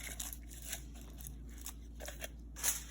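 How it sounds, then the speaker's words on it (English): Tin foil crinkling and crunching as it is wrapped tightly around a can, a series of close, faint rustles and sharp crackles with a louder crumple near the end. "just use some nice high quality tin foil and make sure it's totally surrounded"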